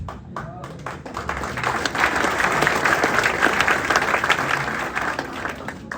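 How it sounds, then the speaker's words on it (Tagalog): Audience applause at a Filipino empire-building talk, steady dense clapping filling the whole stretch at moderate level, with some voices mixed in. "Buti ngayon may pumalakpak."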